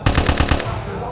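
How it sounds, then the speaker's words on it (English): Machine gun sound effect generated in a Krotos Weaponiser sampler from a pistol sample: a rapid burst of about six loud, evenly spaced shots followed by a short fading tail, with no voices. "So then I can turn that into a machine gun with a click of a button."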